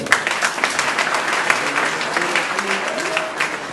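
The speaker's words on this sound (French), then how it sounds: "M. Serigne Modou Ngom, que je vous demanderai d'applaudir très fort." Applause from a university lecture audience greeting a visiting leader, steady dense clapping throughout with some crowd murmur and voices mixed underneath.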